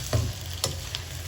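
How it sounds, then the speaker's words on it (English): Tomatoes and curry leaves frying in a pan, soft sizzling with a few brief stirring scrapes over a short stretch. "So keep frying this"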